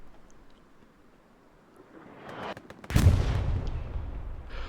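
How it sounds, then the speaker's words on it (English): Artillery fire in a large 49-versus-49 online multiplayer match: a couple of sharp cracks build to a heavy, close blast that rumbles on with dense, loud low-end reverberation. "this is Ocelots artillery"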